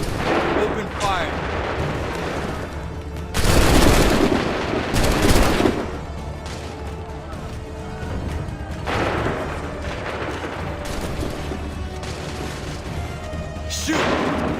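Gunfire volley from an Assassin's Creed 3 battle, with two loud broadband blasts a few seconds apart and a later burst, over continuous game music and shouting voices.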